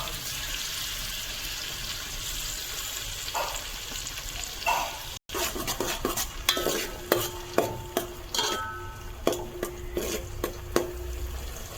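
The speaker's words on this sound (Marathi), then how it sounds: "तर आता आपण आलं लसूण आणि मिरची टाकून घेऊया." Ginger, garlic and chili frying for street-style pav bhaji, with a steady sizzle and then a run of sharp, repeated stirring scrapes and clicks of a spoon against the pan.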